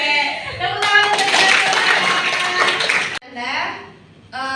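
Audience clapping hands in a classroom during a guidance lesson: a dense burst of applause lasting about two seconds, close and loud, with a teacher's voice speaking before and after it.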